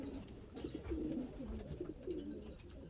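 Pigeons cooing softly inside a crowded pigeon loft, low murmuring coos running steadily throughout at a moderate distance, with no voices.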